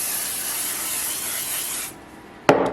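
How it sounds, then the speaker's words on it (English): Bond adhesive spray hisses onto embroidery stabilizer in one continuous, close spray lasting nearly two seconds, followed by a brief pause and a sharp handling knock. "Now I'm going to take my bond spray and just spray the stabilizer"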